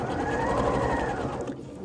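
Sewing machine stitching fabric for a children's winter crown, a fast, steady mechanical whir running close and loud for nearly two seconds before easing off at the end.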